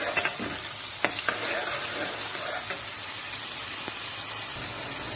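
Garlic, ginger, onion and tomato frying in a pan for a turnip curry, a steady close sizzle with spoon scrapes and clinks on the pan, a few sharper taps near the start.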